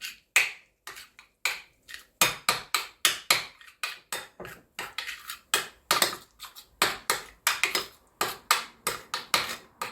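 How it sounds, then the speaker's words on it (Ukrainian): Repeated sharp scraping clacks of a spoon against a bowl while stirring grated garlic and mayonnaise filling, a steady brisk rhythm of strokes, close and fairly loud with no talking. "І все гарно перемішую."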